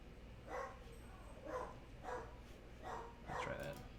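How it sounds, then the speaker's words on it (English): Several dogs bark in the background indoors, five muffled, distant barks spaced about a second apart, faint and steady. "we got some dogs in the background"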